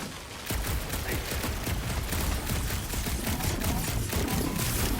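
Gunfire in Marvel's Guardians of the Galaxy during a bridge battle, a dense sustained barrage of rapid shots and impacts that starts abruptly after a brief lead-in and stays loud and close to the end.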